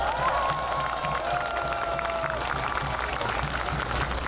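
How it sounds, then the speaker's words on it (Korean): Crowd applause at an outdoor political campaign rally for a presidential candidate in Yangsan, South Korea: steady, dense clapping and cheering fills the whole stretch at an even loudness, with a faint whistle-like tone drifting through. "그들에게 박수 한번 올려주세요."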